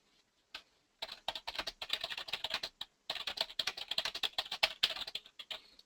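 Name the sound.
typing on a computer keyboard in oXygen XML Editor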